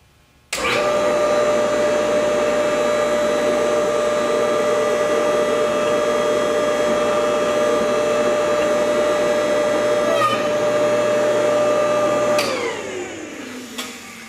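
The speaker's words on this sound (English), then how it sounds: "So we're going to turn the machine on, we're going to run this punch down into the hole of the die" A punch press runs as its punch is lowered into the die for alignment: a loud, steady, close motor whine with a strong tone starts abruptly and holds for about twelve seconds, then winds down, with no voices.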